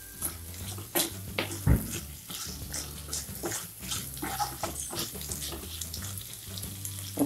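Green peas sizzling in a pan while being stirred for a masala curry, with scraping strokes and clinks over a continuous close fry, no voices.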